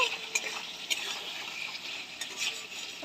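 Potatoes fry with spice paste for a thin rohu fish curry, a soft hiss of sizzling under intermittent scraping and stirring taps, close and fairly quiet.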